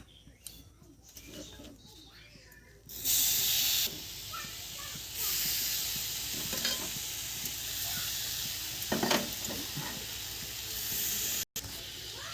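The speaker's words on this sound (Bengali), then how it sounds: "এবার কড়াইয়ের মধ্যে নারকেলগুলোকে দিয়ে দেব।" Grated coconut mixed with sugar goes into a wok over a low gas flame and hisses steadily. The sizzle begins after a few seconds and carries on, with occasional stirring sounds.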